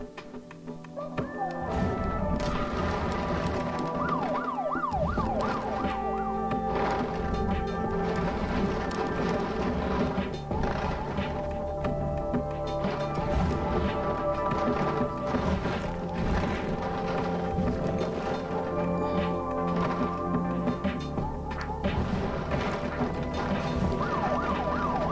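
Police sirens wail in the PC monster game Test Tube Titans, sounding continuously at steady loudness throughout, mixed into dense game music and effects with no one talking.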